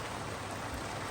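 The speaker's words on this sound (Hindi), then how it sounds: "इस तरफ बारिश, ऐसी नॉन स्टॉप बारिश हो रही है ना" Heavy, nonstop winter rain falls steadily outside, a dense, even hiss of drops that holds at a constant level throughout with no pauses and no voices.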